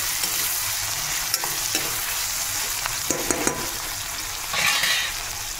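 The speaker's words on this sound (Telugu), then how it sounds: "టమాటాలు కోసి ముక్కలు వేసుకోవాలండి. వేసేసుకొని కలుపుకోవాలి." Tomato pieces sizzle in hot oil in a pan for an egg masala curry, with a steady frying hiss throughout and a few light scrapes and clinks from stirring, ending in a brief louder swell.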